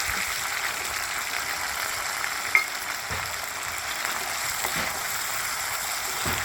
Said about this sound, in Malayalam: കടുക് പൊട്ടിക്കഴിഞ്ഞാൽ പിന്നെ നമ്മളതിലേക്ക് തേങ്ങാക്കൊത്താണ് ഇട്ട് കൊടുക്കുന്നത്